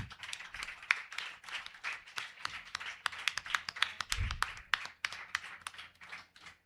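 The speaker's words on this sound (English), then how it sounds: "May we have a round of applause?" An audience at an inauguration ceremony at the National Skill Academy in Kochi gives a round of light, uneven clapping, individual claps audible throughout at moderate loudness, with a brief low thump midway.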